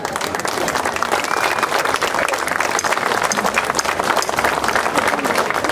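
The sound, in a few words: crowd applause at a festival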